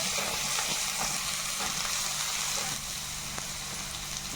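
Chopped onions sautéing in a pan for a vegetable curry, a steady close sizzle and hiss throughout with faint stirring scrapes.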